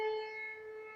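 Midday noon siren sounding at twelve o'clock, a steady sustained wailing tone, moderately loud and distant, with no voices.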